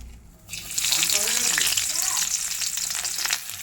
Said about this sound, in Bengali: এই যে পেঁয়াজটা এখন ভাজা ভাজা হয়ে যাচ্ছে